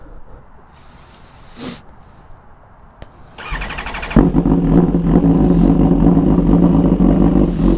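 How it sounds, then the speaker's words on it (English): Hyper naked motorcycle with an aftermarket exhaust cold-starting: a brief cranking whir, a pause, then the engine catches and settles into a loud, rough, raspy idle that stays strong to the end. "let's do a cold start with this crazy exhaust and start this ride"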